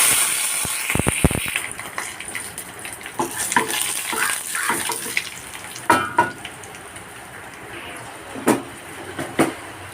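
Hissing and crackling of spices frying in hot coconut oil as a tempering for drumstick curry, with occasional sharp pops and clinks of a utensil scattered over the sizzle.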